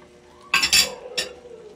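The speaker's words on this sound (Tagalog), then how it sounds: "Haluin ulit natin." Pancit molo soup stirred in a pot with a utensil, giving a few quick scraping clinks against the metal, two close together followed by a third, over quiet background hum.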